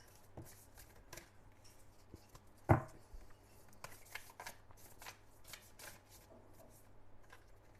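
Tarot cards are shuffled close by in soft, quick riffling flutters, with one sharper knock and scattered papery slaps through a quiet room, and no talking.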